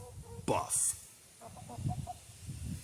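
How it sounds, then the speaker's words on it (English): Buff Orpington hens cluck softly in a backyard coop, a short loud squawk followed by low murmuring clucks nearby, with a person talking over them. "And we got the Buff Orpingtons."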